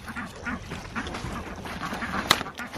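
Ducks quack in a steady, overlapping chatter at moderate distance, with one sharper call standing out near the end.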